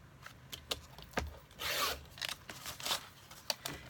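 Cardstock being cut for a card base, heard as a few brief quiet slicing and rubbing strokes with light paper handling, close and soft with no talking.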